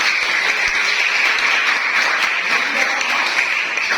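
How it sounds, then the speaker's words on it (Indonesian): An audience applauds during a lecture on Indonesian regional government, a dense, steady wash of clapping that holds at an even, fairly loud level for the whole stretch with no voices over it. "terima kasih berikan tepuk tangan"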